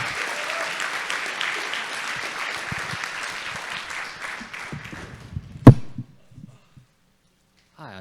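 Audience at a conference talk on electrical muscle stimulation applauds steadily, a dense wash of clapping that fades out, followed by a sharp knock and quiet.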